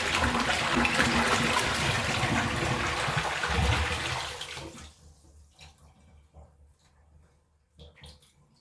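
A Kohler Trent toilet is flushed by dumping a bucket of water into the bowl: a loud, close rushing gush for about five seconds, then an abrupt drop to a quiet trickle with faint splashes.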